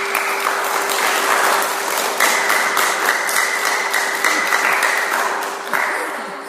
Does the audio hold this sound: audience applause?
yes